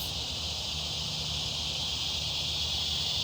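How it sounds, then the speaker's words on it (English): Cicadas buzzing loudly at a big cat rescue sanctuary, a dense, steady, unbroken hiss-like drone that fills the whole stretch with no talking over it. "the cicadas have been... I couldn't even hear myself think earlier"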